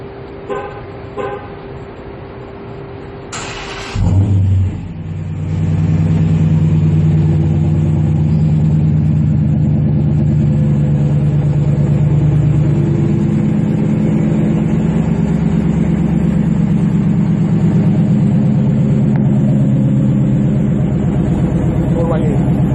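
A 2014 Dodge Challenger R/T Shaker with a Hemi V8 and Borla exhaust idles after a short horn toot, then settles into a loud, steady deep rumble close by, with people talking over it.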